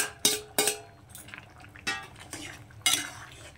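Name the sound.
fried bitter gourds added to a pan and stirred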